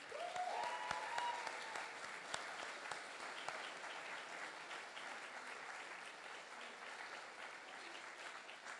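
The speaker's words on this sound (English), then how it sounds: "can I get another round of applause for our chief residents?" A graduation crowd applauds chief residents at a hospital residency ceremony, a steady, distant spread of many hands clapping, with a brief voice or cheer rising above it near the start.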